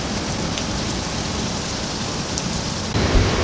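Steady heavy rain pours down around an infinity pool at a Kuala Lumpur Airbnb, a dense continuous hiss that stays loud throughout, with a slight shift in tone near the end.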